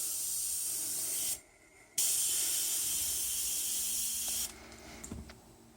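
An airbrush hooked to a California Air Tools 2010A compressor, with the regulator at about 25 psi, releases a steady, close hiss of air. The hiss breaks off briefly, resumes, then drops to a quieter trickle with a few small clicks.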